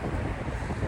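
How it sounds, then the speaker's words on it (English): Strong wind on a sunny South Florida day buffets the microphone in a loud, continuous low roar throughout this very short moment, with nothing else standing out. "As you can hear, it's a pretty windy day."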